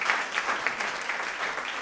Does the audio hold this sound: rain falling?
no